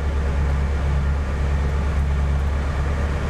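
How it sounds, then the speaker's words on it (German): The electric convertible top of a 1976 Cadillac Eldorado with a 500 cubic inch V8 opens, a steady low motor hum and drone running evenly and close throughout. "wie wir sehen, klappt das Dach ohne Mühe elektrisch auf."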